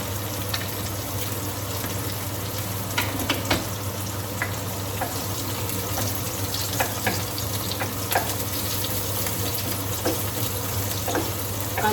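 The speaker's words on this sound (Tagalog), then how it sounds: "So, gigisa na tayo. Hindi natin ng sibuyas." Onions sauté in a pan with a dense, continuous sizzle over a steady low hum, dotted with occasional faint clicks and scrapes.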